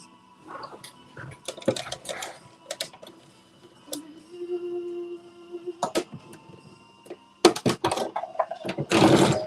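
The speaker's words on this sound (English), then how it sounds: "I'm going to stitch 5/8 of an inch all the way across the bottom of the collar" A sewing machine stitches a 5/8-inch seam across the bottom of a collar, running in short bursts of rapid mechanical ticking separated by pauses and handling clatter, close and fairly quiet.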